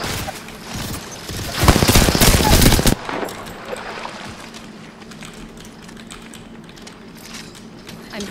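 Rapid automatic gunfire in the video game Apex Legends, one loud burst lasting just over a second, then quieter rumbling game ambience with a steady low hum.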